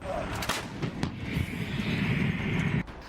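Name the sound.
155 mm howitzer artillery firing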